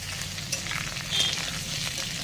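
Cut potatoes go into a pan of already fried onions, and a steady close sizzle swells briefly as they land.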